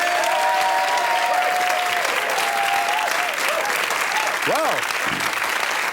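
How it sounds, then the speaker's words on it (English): Studio audience applauding contestants on a 1992 television quiz show, a steady loud wash of clapping throughout with a presenter's voice and bright chimes sounding over it. "So, a big round of applause, please."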